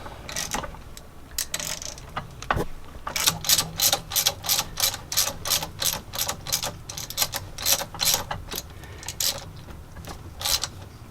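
Metallic ratcheting clicks come in quick rhythmic bursts as bolts are fastened into a Lugger/Northern Lights PTO clutch, close and fairly loud with brief pauses between runs.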